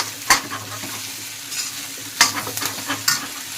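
Aloo gutka potatoes fry in a pan with a steady soft sizzle, broken by several sharp scraping strokes of a spoon stirring them, close and without talk.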